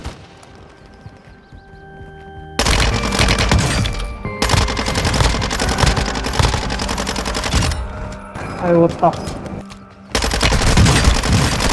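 Rapid bursts of gunfire from the shooting ring out loud and close in dense volleys, with brief lulls between clusters of shots and no voices.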